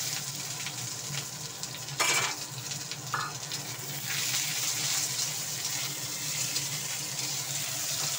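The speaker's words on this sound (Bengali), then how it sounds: "পেঁয়াজটা একটু লালচে লালচে করবো, ভেজে নেবো, একটুখানি ব্রাউন কালারের হয়ে যাক।" Onion fries in oil with cumin seeds in a pan, giving a soft, steady sizzle with a few brief clinks and stirring scrapes, no voices.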